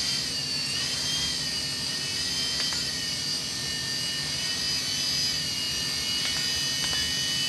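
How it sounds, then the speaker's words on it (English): An E-flite Blade MSR micro RC helicopter hovers indoors, its small rotor and motor making a steady, high-pitched whine that holds evenly throughout, close by and without talk. "let me try to get a hover in here and then I'll do some move around the room"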